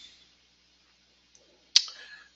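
A single sharp computer mouse click sounds close and crisp in a quiet room, preceded by a faint tiny tick.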